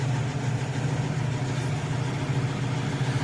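A Case 2294 tractor with a 504 engine idles steadily after a cold start on a frigid day, a low, even rumble heard close and alone.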